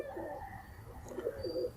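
Soft, low pigeon cooing in a couple of throaty phrases over a faint background hum, fairly quiet and close.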